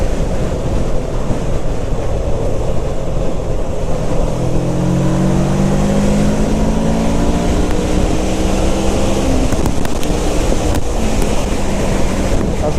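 A Kawasaki ER6f (Ninja 650R) motorcycle cruises at about 70 mph, its engine drone steady under loud, constant wind roar, with a faint tonal whine rising midway.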